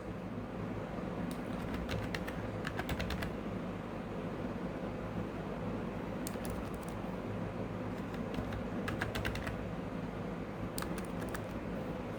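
Fingers tap a PIN into a computer keyboard in short bursts of light key clicks, separated by pauses, over a steady, loud background hum.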